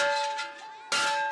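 A school bell in Kabul, Afghanistan rings with a bright, sustained metallic tone that dips slightly, then is struck again loudly near the end.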